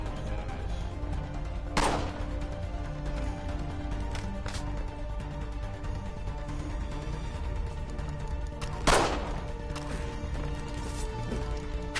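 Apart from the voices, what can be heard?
pistol gunfire in the video game Assassin's Creed 3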